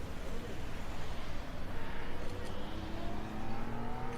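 A 2026 Formula 1 car's engine recorded trackside, a continuous rising and falling revving whine with rumble, loud and sustained through the clip, mixed with some crowd or commentary noise.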